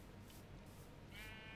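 A Minecraft sheep gives a faint, short bleat, a soft wavering cry rising near the end over a low background hum.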